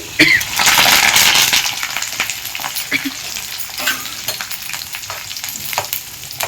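Garlic frying in a pan for a chicken curry, with a loud hissing sizzle at first that settles into steady crackling, broken by light stirring scrapes and clicks.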